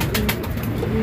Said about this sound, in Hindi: ये पाकिस्तानी कबूतर है, कसूरी बोलते हैं उसको